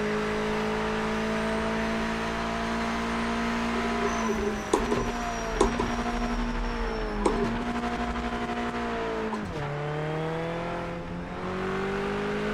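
A race car engine in Project Motor Racing on a test track mod, revving steadily at high pitch, with several sharp gear shifts and dips in revs and some brief tire scrubbing, up close and with no speech.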